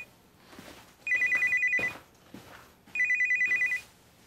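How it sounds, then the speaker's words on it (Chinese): A telephone rings inside a car in two loud, close electronic trilling bursts, each about a second long, separated by a short pause over quiet background noise. "我接接电话"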